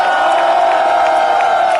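A street crowd at a march by Sewol ferry victims' families near the Blue House claps and cheers loudly. The sound is a dense, continuous roar of applause mixed with shouts.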